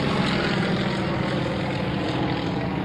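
An aerobatic airplane tumbling end over end low to the ground at an airshow, its propeller engine a steady loud drone with a faint wavering pitch.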